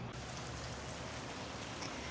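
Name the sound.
rain starting to fall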